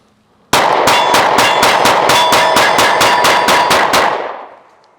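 A PSA Micro Dagger pistol fires fifteen rounds from an S15 magazine in a fast, even string of loud, sharp reports, each with a ringing metallic edge, before the echo fades out.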